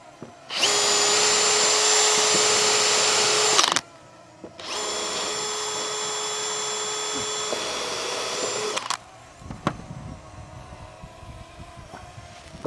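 Power drill boring a pilot hole into oak cladding on a garage build, two loud sustained whining runs separated by a short pause, followed by quieter handling clatter.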